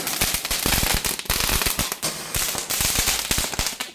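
Rapid, loud bursts of Diwali firecrackers popping in dense irregular volleys, sharp cracks overlapping one another with almost no pause.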